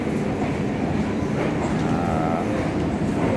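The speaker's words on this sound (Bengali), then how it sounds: "শিয়ালদা থেকে ট্রেনটা জাস্ট ছাড়লো" A passenger train pulling out of Sealdah station in the early-morning hours gives a steady, loud rumble with faint wheel clatter that runs unbroken throughout.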